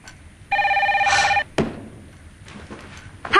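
A telephone rings once, loud and close, a steady trilling electronic ring that cuts off as it is picked up, with a clatter and faint room noise after.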